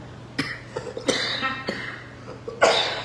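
Several sharp coughs break out at uneven intervals, close by, with quieter breathy sounds and throat noises between them.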